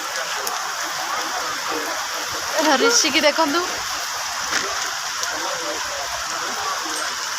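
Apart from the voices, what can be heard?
rain falling at a festival fair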